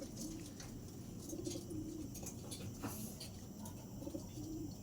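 Racing pigeons coo softly and repeatedly at a distance over steady outdoor background noise, with no nearby talk.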